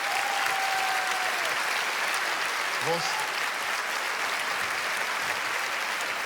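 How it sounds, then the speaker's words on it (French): Thunderous applause from a comedy festival audience in Liège, a dense steady roar of clapping throughout, with a brief voice heard mid-way. "Montez sur scène sous un tonnerre d'applaudissements, s'il vous plaît."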